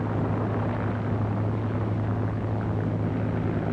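A P-51 Mustang warbird starting its takeoff roll at full power: a steady, loud piston-engine and propeller drone with a constant low harmonic hum, holding even throughout with no voices.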